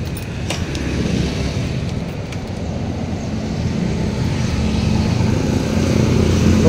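A Smash 115 motorcycle engine, mid-conversion to a Sniper head with coolant added, runs with a steady loud mechanical drone that builds slightly, up close and with no talk.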